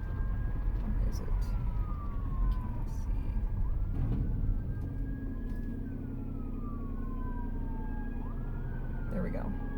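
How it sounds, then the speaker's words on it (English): An ambulance siren wails close behind a moving car, its sweeping rise-and-fall tone repeating over steady road rumble. A person speaks briefly in the middle. "Right now I hear an ambulance behind me"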